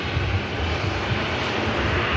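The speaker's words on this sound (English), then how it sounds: "We do have the NetJets Cessna now lined up." A NetJets Cessna jet sits lined up on the runway, a brief, even engine rumble holding at a constant level throughout.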